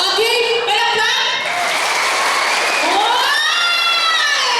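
An audience at an awards and recognition ceremony claps and cheers throughout, with loud shouts and excited voices, some sounding like children, rising over the steady din.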